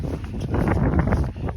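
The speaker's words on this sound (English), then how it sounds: "it is so windy" Gusty wind rushes across the microphone in uneven bursts on the Rockwall Trail in Kootenay National Park, a close, blustery roar.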